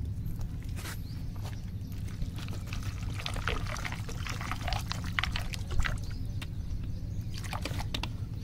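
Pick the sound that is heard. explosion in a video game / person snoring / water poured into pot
water poured into pot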